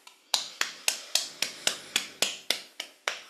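Fingers tapping on the body during an EFT tapping exercise, about a dozen crisp, evenly spaced taps close by at a steady quick rhythm, fairly quiet, with no talking.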